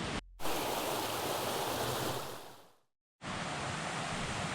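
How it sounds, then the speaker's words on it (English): Emerald Creek, a crystal clear creek, flows with a steady broadband rush of water, loud and close, briefly cut off twice. "It's a beautiful crystal clear creek, Emerald Creek"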